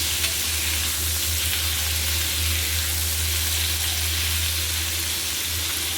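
Small fish frying in a pan of hot oil, a dense continuous close sizzle with a low steady hum beneath, no talking.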